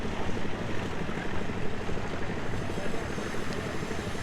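A mountain waterfall along the Kedarnath trek pours in a steady, broadband roar, a constant rushing wash that holds even throughout with no breaks.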